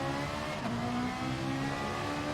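Engines of race cars in a racing video game rev and accelerate together at the race start, a steady loud drone that rises slightly in pitch partway through, with no talk.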